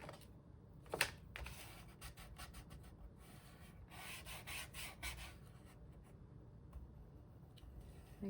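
Soft rubbing of paper pressed onto a card base to stick it down, faint close scraping strokes in irregular bursts with a small tap near the start, no talk.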